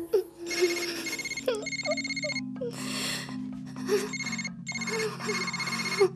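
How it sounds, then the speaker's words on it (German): A telephone rings in repeated bursts over tense dramatic music, with gasps and heavy breathing in between. "Geh ans Telefon, Taylor."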